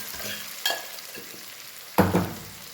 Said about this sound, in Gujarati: આ બાજુ આપણે વઘાર કરી રહ્યા છીએ.